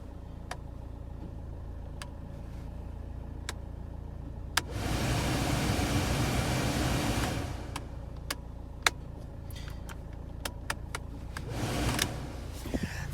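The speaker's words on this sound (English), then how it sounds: "your cabin air fan does this" A 2012 Dacia Duster's cabin air blower fan, which only works on its highest setting, rushes in a steady whooshing burst for a few seconds, then returns briefly later amid quiet cabin clicks.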